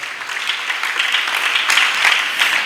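Church congregation applauding the word of God, a dense, steady burst of clapping from a large audience that continues throughout with no voices over it.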